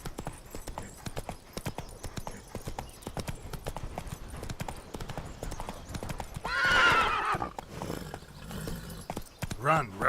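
Roach the horse from the Witcher 3 video game gallops with steady clip-clop hoofbeats throughout, then gives a loud, clear neigh midway and another short whinny near the end, with a voice speaking over the action.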